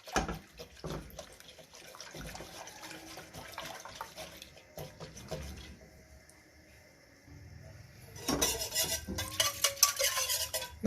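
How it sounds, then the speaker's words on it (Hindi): A steel whisk steadily stirs a cream, sugar and cornflour mixture with vanilla essence in a pan, making soft scraping and swishing close by, and a sharper, louder metallic rattling stretch near the end. "तो इसको मैं मुसलसल चलाती रहूँगी"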